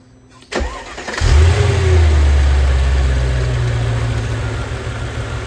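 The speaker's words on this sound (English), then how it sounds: "go ahead and turn on the engine." A car engine cranks and fires up during an ABC hydraulic valve block repair and tandem pump replacement, then settles into a loud, steady idle close by.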